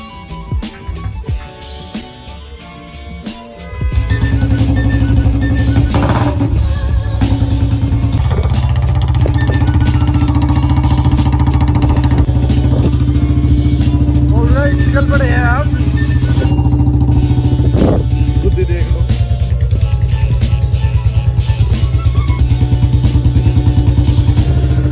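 A Royal Enfield Bullet Standard 350 BS6 motorcycle starts after a few seconds of quiet handling, then settles into a loud, steady thumping idle that runs close and continuous to the end, with occasional light clatter.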